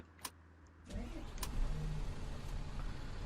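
An Otokar Kent 290LF city bus in OMSI 2 starts up: a couple of clicks, then the engine catches and settles into a steady, deep idle rumble that holds to the end.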